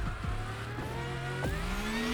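An electric car with a single gear driving in the racing game The Crew Motorfest, giving a steady whining motor tone that rises and dips in pitch as it accelerates, close and continuous with no talking.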